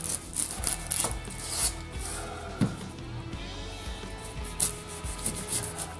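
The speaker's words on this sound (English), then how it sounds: "I'm going to cut our onion." A knife cuts an onion, halved and then sliced thin, as filet mignon is prepared with a saffron sake sauce: a handful of sharp, scattered knife strikes on a board and some rubbing, close by, with no talk.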